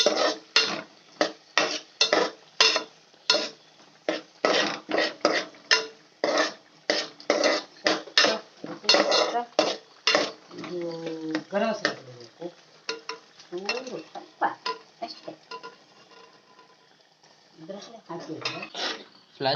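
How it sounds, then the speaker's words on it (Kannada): Egg masala frying on medium flame in a pan, a spatula scraping and clacking in quick rhythmic strokes close up, with a faint sizzle between them and a voice speaking partway through. "ಮೀಡಿಯಂ ಫ್ಲೇಮಲ್ಲಿ ಇಟ್ಕೊಂಡು ಫ್ರೈ ಮಾಡಬೇಕು."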